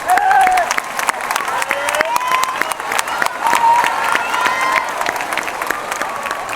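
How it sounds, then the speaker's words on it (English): A school audience gives a loud, sustained round of applause for an 8th grade chorus, dense clapping with scattered cheers and whoops throughout, close and full. "How about another round of applause for our 8th grade chorus?"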